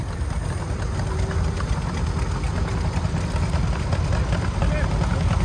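A 1951 Allis-Chalmers WD tractor engine runs in an outdoor parade, a steady low chugging rumble throughout, with someone talking over a loudspeaker.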